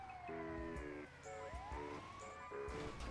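A LEGO ambulance siren in GTA 5 wails throughout, a steady rising and falling electronic tone with stepped horn-like blasts, loud and close, with game engine noise underneath and no talk.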